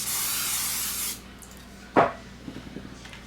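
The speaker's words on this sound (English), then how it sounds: "Spray the pan" Cooking oil sprays onto a pizza pan in one steady close hiss lasting about a second, followed by a sharp knock and a few soft handling taps.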